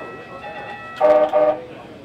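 MAX Green Line light rail train sounding its horn in two strong blasts with a short gap between them, following a stretch of steady background rumble, loud and close.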